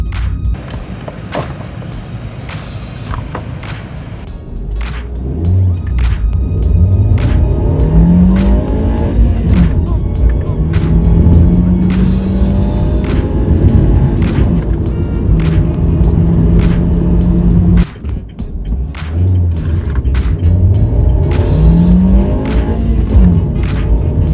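A car's engine after a K&N drop-in air filter install, idling and then repeatedly revving and accelerating hard through gear changes, loud and close inside the cabin with no talking.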